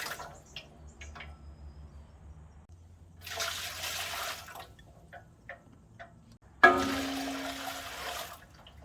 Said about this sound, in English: we're going to put 3 quarts of water